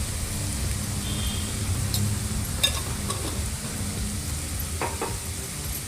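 Tomato-based palak paneer masala sizzles steadily in a pan for the whole stretch, and a few stirring scrapes and clinks come up from the hiss, with no voices.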